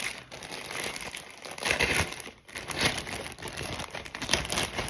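Crinkly packaging for an Ami Alexandre Matiussi navy t-shirt being opened, with steady close rustling and crumpling of plastic or paper throughout, no talking.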